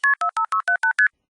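Seven short, musical two-note signalling tones from an old telephone system, evenly spaced and clean, each a brief steady beep with a small gap, alone with no talking.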